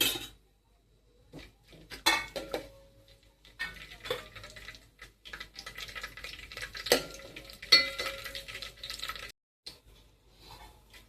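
Whole garam masala spices roasted in a hot pan over low heat for a Konkan prawn rice, with scraping stirs and light rattling of spices against metal, soft and close in intermittent bursts.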